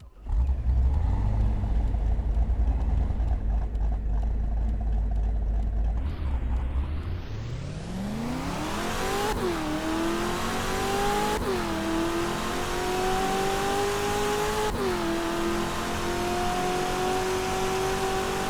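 A Chevrolet Corvette C6R race car engine in the Roblox game Greenville idles with a deep rumble, then revs hard and climbs through several gear shifts, each shift briefly dropping the pitch before it rises again. The engine is loud and close, with no talk.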